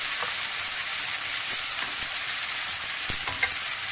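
Bitter gourd pulusu being stirred in a hot pan after turmeric goes in, a continuous close sizzle broken by irregular scraping and clinking strokes of the spoon.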